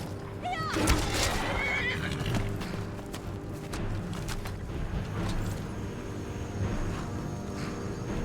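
Riding a horse in Skyrim brings a sharp whinny early on, followed by steady hoof clip-clop and game ambience at moderate loudness, with a person talking over parts of it.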